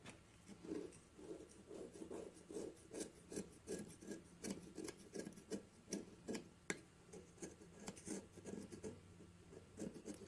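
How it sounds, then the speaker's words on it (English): Rhythmic rasping strokes of a hand scraper shaving babbitt bearing metal on a McCormick Deering 3 hp engine, repeated steadily and close, with a few sharper scratches and no talk. "But we still have some scraping to do."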